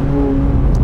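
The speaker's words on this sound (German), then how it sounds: "Direkt Wheelspin." A McLaren 750S spinning its wheels as it accelerates hard, a loud close steady engine drone with a deep rumbling roar filling the moment, no talk over it.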